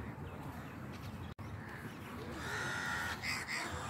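Crows caw and other birds call in a public park in Gujarat, India. The calls are fairly distant over a soft outdoor ambience and grow busier toward the end.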